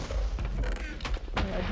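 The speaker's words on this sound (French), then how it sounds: "Du coup on entend les deux coups de canon" Two booming cannon shots in a video game PvP match, sharp broadband blasts close together against constant game background noise.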